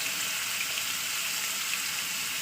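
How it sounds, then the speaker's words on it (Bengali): Potatoes frying in hot oil, a steady bright sizzle and crackle that stays even throughout, no talking. "তো এদিকে আমার তেলটা গরম হয়ে গেছে আমি এবার দিয়ে দেবো আলুটাকে"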